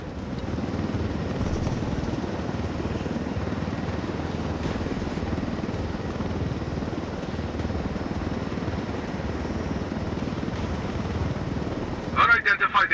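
Helicopter in the video game Ghost Recon Wildlands: a steady, loud rotor and engine drone that holds throughout, with a brief flurry of clicks at the very end.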